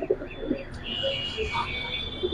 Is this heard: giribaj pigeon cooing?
yes